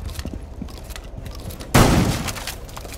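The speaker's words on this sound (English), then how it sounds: "have you seen this gun before? The fucking automatic shotgun?" Automatic shotgun fired in the shooter game Rainbow Six Siege, one loud close blast with a rolling tail over quieter background game noise and faint distant gunfire.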